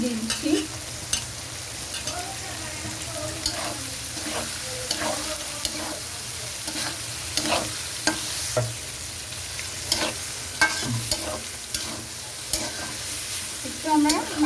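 Capsicum being stir-fried for vegetable chow mein, a steady sizzle under repeated scraping strokes of a spatula in the pan, close and fairly loud with no talking.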